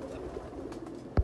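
Golden pigeons coo softly at a breeder's loft, a few low murmuring calls over quiet background, ending with a brief louder thump.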